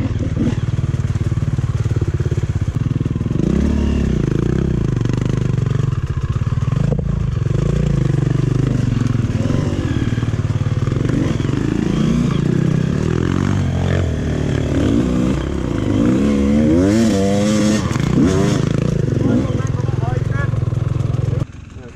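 An enduro motorcycle engine drones and revs continuously on a hard enduro race course, loud and close throughout, with shifting pitch as it labors and accelerates, while people talk over it.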